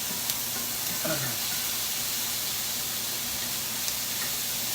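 Onions frying in a hot pan with pork chop scrapings, a continuous loud hiss and sizzle with a brief scrape of a utensil early on.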